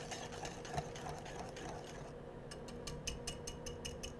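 An electric mixer blends and whisks a pudding mixture at home, giving a steady whirring motor hum with a rhythmic chattering pulse that runs throughout, moderately loud and close.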